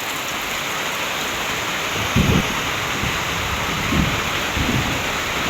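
Heavy rain pours steadily onto a leaking house roof, a dense constant roar with a few louder low thumps and gusts swelling through it, and no talking.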